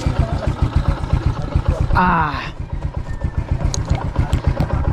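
A motorcycle engine runs at a steady, close, pulsing idle, and a voice speaks briefly over it.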